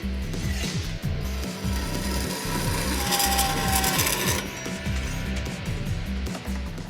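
A power drill bores pilot holes for plug welds into a chunk of 2x4 steel box tubing, its loud motor whine and rhythmic grinding chatter running steadily for several seconds.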